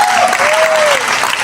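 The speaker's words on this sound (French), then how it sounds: "On applaudit, on applaudit." Audience applause fills a live comedy show, a steady dense wash of clapping throughout, with a faint high tone drifting underneath.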